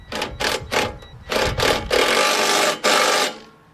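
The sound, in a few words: tightening go-kart cage bolts with 10 mm and 12 mm wrenches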